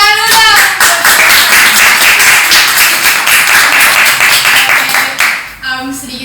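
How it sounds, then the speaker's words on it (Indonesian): An audience at an Indonesian talk on student exchange scholarships breaks into dense, sustained clapping for about five seconds, loud and close, with a voice briefly heard before and after. "Kasih tepuk tangan dulu dong"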